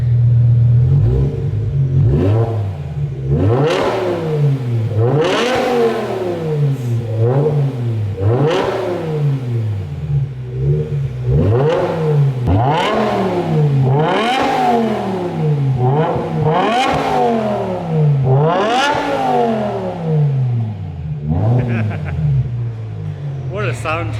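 A BMW E60 M5's V10 engine with an Eisenmann race exhaust revs hard again and again, the exhaust rising and falling in sharp, loud bursts that continue steadily throughout.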